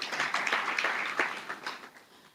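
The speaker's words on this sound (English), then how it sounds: "One round of applause as he takes his seat kindly." Audience applause at a freight and warehousing association strategic plan event in Kenya, a dense run of clapping, moderately loud and fairly even, fading slightly toward the end.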